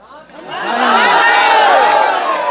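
A dense crowd at a village panchayat election rally in Bihar bursts into loud cheering and shouting, swelling quickly and holding at full volume, with children's voices mixed in.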